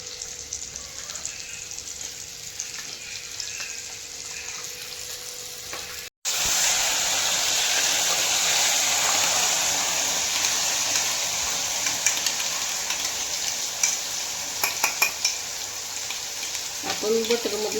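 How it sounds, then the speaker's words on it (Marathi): Ground gravy paste for butter chicken fries in butter with a steady, loud sizzle, briefly cut off before resuming, with occasional stirring clinks and light voices over it. "ग्रेव्ही वाटण वाटलेलं आहे ना, ते आता बटरमध्ये थोडंसं फ्राय करून घेऊ."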